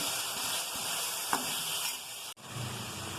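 Chopped tomato hits a hot oil tempering for a broad bean curry, giving a steady close sizzle and hiss with a brief stirring knock partway through.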